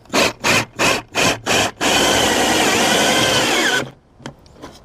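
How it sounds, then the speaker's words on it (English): An 18 volt cordless portable drill drives a screw through a hidden gutter hanger into a gutter, five short bursts of whirring followed by one long steady run, then it stops and a few faint clicks follow. "just an ordinary portable drill will take care of it"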